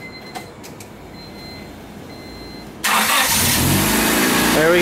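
A Honda car engine cranks briefly and then catches and starts after a wire is reconnected, a sudden loud roar that settles into a strong, steady running sound after a few quiet seconds of faint ticks.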